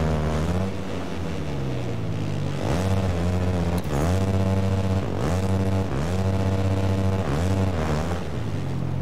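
450 supercross motorcycles racing at a Saturday night event, engines loud and near with repeated rev surges and throttle drops every second or so, a dense continuous roar with no talk.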